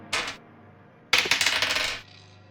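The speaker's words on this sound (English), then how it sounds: "Give me one moment as I roll this one die 8 times." A single die rolled several times in a row, each throw a sharp clatter with rapid bouncing rattles close by, the later roll a quick burst of repeated clicks fading out.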